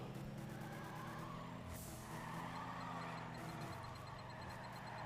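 Mazda Miata in the video game Juiced 2: Hot Import Nights, engine droning with a rough diesel-like rumble that shifts pitch as it shifts gear, plus a brief hissing burst, under faint game sounds.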